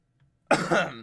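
A single loud, close cough breaks a short silence, rough and throaty like clearing the throat, trailing off after about half a second.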